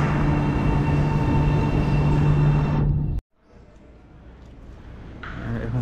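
A metro train at Cyberjaya-Putrajaya station in Malaysia roars steadily at close range, then cuts off abruptly, leaving quieter station ambience that slowly builds again.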